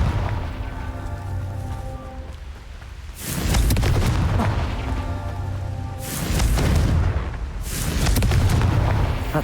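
The Confringo blasting spell explodes in Hogwarts Legacy, three loud booming blasts with crackling, roaring tails, each bursting out of a steady background rumble.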